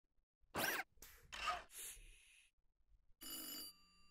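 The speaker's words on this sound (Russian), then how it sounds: "Звонит телефон" A telephone ringing in the video game Angelo and Deemon: a few short, bright ring bursts separated by silence, fairly faint and isolated, with no talking over it.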